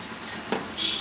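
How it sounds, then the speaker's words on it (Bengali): Salted shrimp fry with vegetables in a pan, a short burst of steady close sizzling with a single stirring clack midway and a brighter hiss rising at the end. "চিংড়ি মাছটা একটু ভেজে নিচ্ছি সবজির সাথে।"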